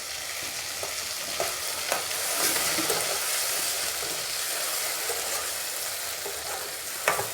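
Chopped onion and gravy fry in a pan with a loud, steady close sizzle, broken by occasional stirring scrapes and a sharp clack near the end.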